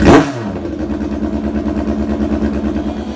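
A 1976 Kawasaki KZ900 drag bike in full drag trim fires up on its own starter and settles into a loud, close, throbbing idle with a steady lumpy beat and mechanical clatter.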